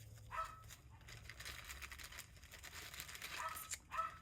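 A small dog indoors barking through a window, a few faint yips and short barks spread across a quiet background.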